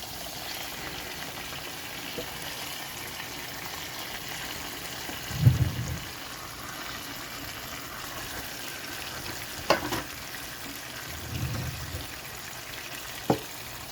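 Tomato sauce with calamari sizzles and simmers in a pan for pasta, a steady close frying hiss with a few soft stirring knocks and clinks, no talking.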